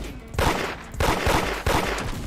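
Rapid gunfire in the Roblox game Da Hood, three loud bursts of shots fired in quick succession with brief gaps between them.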